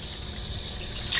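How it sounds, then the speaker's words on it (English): Water runs from a tap at a glamping campground in a steady, loud, close gush that holds without a break. "Running water at a campground?"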